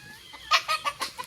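Chickens cluck close by in a quick series of four or five short, sharp calls within about a second.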